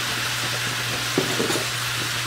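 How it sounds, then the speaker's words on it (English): Meat browning in a pan before pressure canning gives a steady, close sizzle and frying hiss with a brief stir or scrape near the middle, and no talking. "I'm gonna let that brown up."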